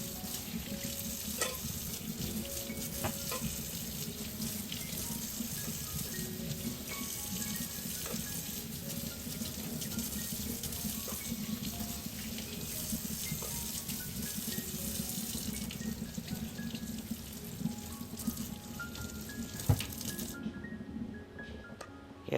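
Tap water runs steadily into a kitchen sink with small clinks and scraping of wooden spatulas being rinsed, ending abruptly near the close.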